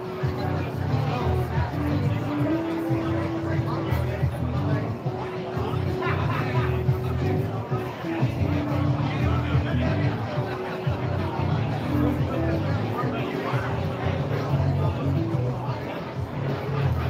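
A dense murmur of many voices chattering at once, steady and close, with a low rumbling hum running underneath throughout.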